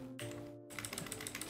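Rapid, steady keystrokes on a computer keyboard while commands are entered during an Ubuntu server configuration, close and fairly loud, with no one talking.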